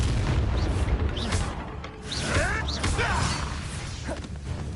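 Blasting-curse explosions from Confringo spells cast in Hogwarts Legacy, with booming bursts and crashing debris amid whooshing spell effects and a faint voice.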